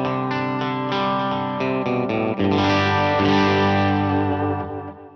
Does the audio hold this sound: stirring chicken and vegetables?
no